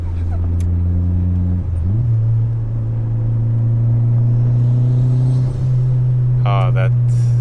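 A Honda Jazz 1.5 Turbo engine revs loud and close, its rumbling tone dipping once and then settling into a steady higher drone, with people talking briefly toward the end.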